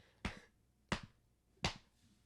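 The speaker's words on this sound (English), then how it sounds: "I'll clap." Three sharp, close hand claps spaced evenly apart in a quiet room, each a crisp single smack with a short decay, heard alone without speech.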